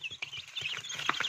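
Rhode Island Red chickens cluck in a short burst of several quick, close calls with no talking over them.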